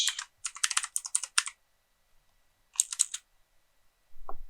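Keys clack on a computer keyboard as an email password is typed on a Windows Server 2019 machine, in two quick bursts of close, crisp tapping separated by a pause.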